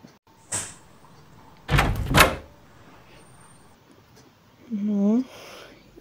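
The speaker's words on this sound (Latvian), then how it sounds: "Nu, viss, durvis ir vaļā." A door swinging open in the video game Melon Playground, heard as a couple of short knocks and a louder wooden scrape mid-clip, followed by a brief voiced sound near the end over quiet background.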